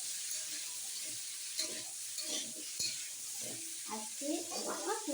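Cauliflower florets and potato pieces fry with onion in a home kitchen pan, giving a steady sizzle broken by scraping stirs and soft clatter, with quiet voices in the background.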